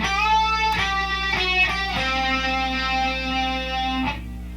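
Distorted electric guitar playing a solo phrase, with a string bend, release and quick fretted notes, ringing loud and sustained with effects and no talk.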